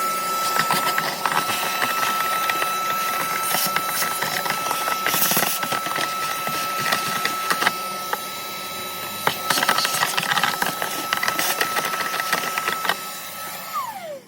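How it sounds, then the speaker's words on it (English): A vacuum cleaner runs continuously up close in the air filter area of a 2019 or later Ram 1500 truck, its steady motor roar broken by small rattles and clicks as debris is sucked up. "So I'm gonna vacuum this up right now."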